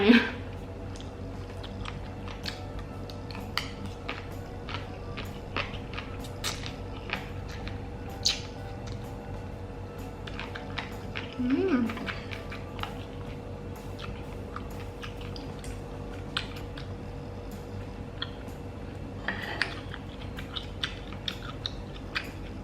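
Spicy Thai salad of fresh shrimp and squid with fermented fish sauce and glass noodles being eaten up close, with soft intermittent chewing and crunchy bites over a quiet background, plus a brief louder burst midway.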